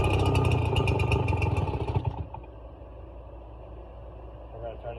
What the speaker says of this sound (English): we're going to turn our choke on, make sure the switch is turned on, and we're going to give it a pull.